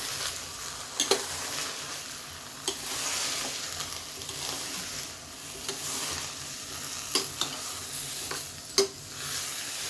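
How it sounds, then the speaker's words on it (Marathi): Bottle gourd and chana dal being stirred in a pressure cooker, a soft continuous sizzle with occasional clinks of the spoon against the metal pot, no talk. "व्यवस्थित हलवून घेऊया"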